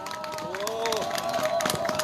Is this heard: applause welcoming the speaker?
yes